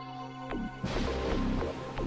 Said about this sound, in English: The sea blackened, thunder struck, and the huge waves caused the ship to hit the rocks and shatter.